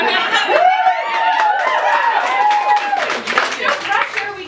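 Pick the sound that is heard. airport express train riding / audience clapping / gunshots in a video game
audience clapping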